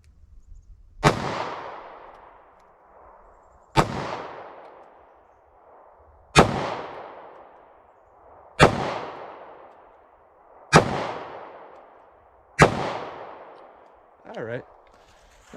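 Six loud, sharp shots from a Taurus G2C .40 pistol, fired slowly at a target at roughly two-second intervals. Each crack rings out and decays, and a fainter clatter follows at the end.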